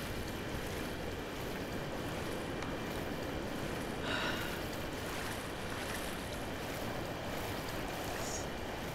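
Steady broadband wash of water in Shadow of the Colossus on PS2, continuous surf-like rushing with a few brighter splashy accents, moderately loud and unbroken, no talking.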